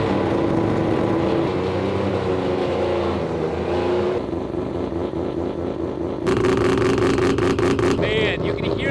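A three-rotor rotary engine with semi-peripheral ports runs loud and close, a rough brapping idle rising into revs, with a brief voice over the din.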